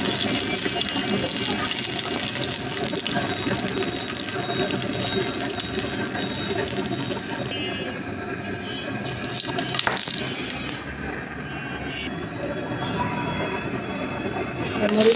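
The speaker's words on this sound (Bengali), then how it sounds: "চারটা শুকনো মরিচ দিয়ে দিলাম চারটা মরিচ আমি ভেজে নেবো" Dried red chillies frying in hot oil for a ridged gourd (kakrol) mash, a steady loud sizzle and crackle throughout that eases slightly partway, close to the pan.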